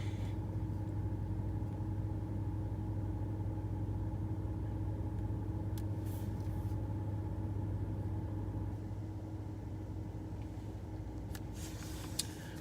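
Steady low rumble of a car's engine and road noise heard from inside the cabin while driving, continuous and fairly loud throughout with no talking.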